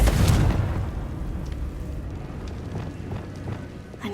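A Confringo spell explosion in the video game Hogwarts Legacy makes a heavy, rumbling boom that swells at the start and then fades into a low, crackling tail with a few faint pops.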